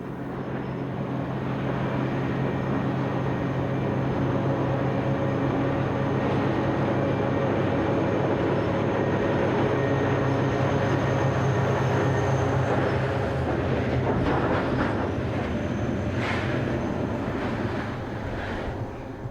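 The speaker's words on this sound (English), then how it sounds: "some of these older locomotives are still in use, principally on coal trains" A diesel locomotive rumbles steadily while hauling a long coal train, a continuous heavy drone with wagon clatter and squeals building toward the end.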